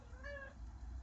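Cat giving a single short meow, clear but fairly faint, over a low steady background hum.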